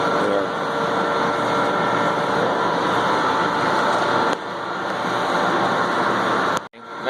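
A gear cutting machine in a gear works shop cuts internal gear teeth, giving off a loud, steady mechanical drone with a humming tone. The noise dips briefly midway and then cuts off abruptly near the end, with no voices.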